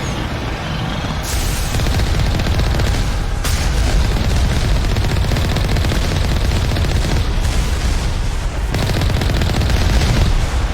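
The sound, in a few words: enemy turrets firing in the video game Mass Effect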